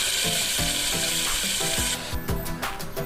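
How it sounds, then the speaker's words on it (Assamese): Loud, steady sizzling of chicken frying in hot oil with bay leaves, with crackling bursts and a few stirring clatters partway through. "এইখিনি অকণমান টাইম ভালদৰে ভাজি ল'ম"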